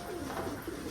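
Racing pigeons give a brief, soft run of low cooing, close but faint against a steady background hiss.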